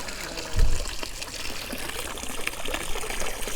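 Water runs steadily over the rim of a container for farm quail drinkers, a continuous close trickle and splash after a brief thump at the start.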